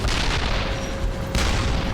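A World War II tank battle with Wittmann's tank under fire: continuous rumbling blasts, gunfire and heavy explosions fill the clip, loud and dense with no pauses.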